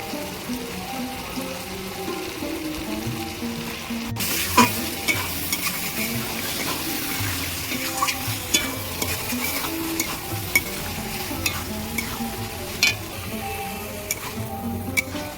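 Boiled chickpeas with spices are sautéed in a pan, a steady close sizzle of frying under repeated spoon scrapes and stirring knocks running throughout, with no voices.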